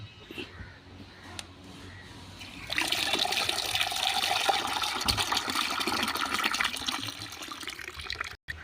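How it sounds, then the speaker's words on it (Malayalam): Plain water being poured into a cup of fermented rice water as a jasmine plant tonic, a steady splashing pour that starts suddenly and runs for several seconds before stopping. "ഒരു അര കപ്പ് കഞ്ഞിവെള്ളം ഇതിലേക്ക് അത്രയും തന്നെ പച്ചവെള്ളവും ചേർക്കണം"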